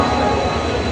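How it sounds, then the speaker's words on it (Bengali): Passenger train from Howrah to Puri, a loud, steady rumble of rolling stock with low droning tones, heard close and continuous for a brief moment. "এই ট্রেনটা প্রত্যেক দিন হাওড়া থেকে 10:30টার সময় ছেড়ে পুরীর উদ্দেশ্যে রওনা দেয়"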